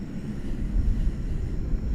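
Qatar Airways airliner taking off from runway 17 right at DFW Airport, a distant, low engine rumble that swells unevenly with wind buffeting, no voices.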